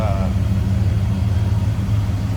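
A 1967 Buick GS 400 V8 rumbling at idle close by, a steady low throb that holds evenly throughout, with a brief higher tone at the very start.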